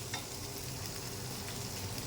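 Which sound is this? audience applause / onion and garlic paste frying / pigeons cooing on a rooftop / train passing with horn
onion and garlic paste frying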